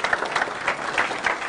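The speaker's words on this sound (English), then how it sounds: "I think we should give a big round of applause." A lecture audience claps after a talk on Islam, a full round of applause with individual claps popping out of the steady patter, moderately loud and continuous.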